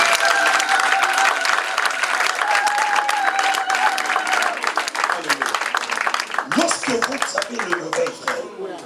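Applause and cheering from a church congregation acclaiming God, a dense steady wash of clapping with a sustained tonal sound over it in the first half, then voices and shouts rising and breaking through as the clapping continues.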